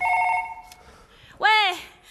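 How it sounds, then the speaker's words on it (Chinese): A telephone rings in short electronic tones during a staged comedy sketch, followed by a loud voice exclaiming. "哎呀，你呢？ 谁电话？"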